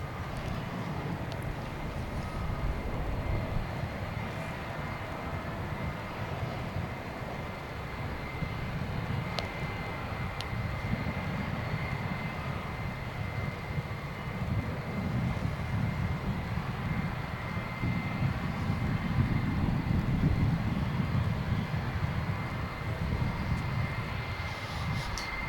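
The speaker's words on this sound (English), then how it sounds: "Here comes that 757 we saw arriving just a few moments ago from" A Boeing 757 airliner passes at Dallas/Fort Worth Airport at night, a broad steady engine roar that swells gradually toward a peak and stays sustained throughout.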